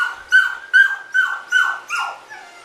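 A dog whimpers during jumping training, a loud, close series of five rising whiny yelps in a steady rhythm, with no talk over it.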